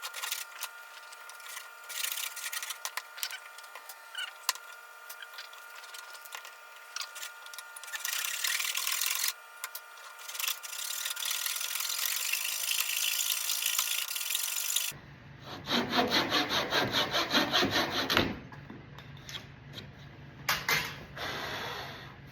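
A hand saw cuts a wooden end rabbet joint with steady back-and-forth rasping strokes, close and fairly quiet, shifting to a coarser, choppier sawing sound partway through.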